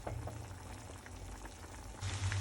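Smoked garlic-lemon chicken simmers in one pan as its sauce reduces, giving a steady bubbling, crackling hiss that swells slightly toward the end, close and continuous.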